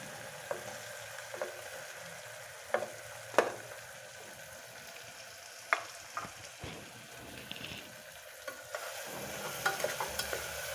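Potatoes frying in oil in a pan with chopped tomato for aloo matar curry, a steady soft sizzle broken by scattered sharp stirring clicks and scrapes, close and with no talking.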